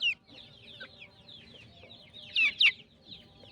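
Chickens cluck in short repeated calls, with one louder burst of squawking near the end, over a low farmyard rumble.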